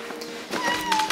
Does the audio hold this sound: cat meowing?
yes